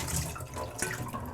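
Water pours from a bowl of almonds soaked overnight, a steady close splashing drain with a brief stronger gush partway through.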